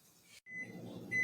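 A kitchen timer set for a pie crust gives a few thin electronic beeps, a short tone and then a longer one. They sound quiet, over a low background hum.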